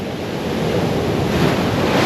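Ocean waves and surf breaking on a reef at Tikehau, a loud, continuous rushing wash of water with wind noise, close and steady and without speech.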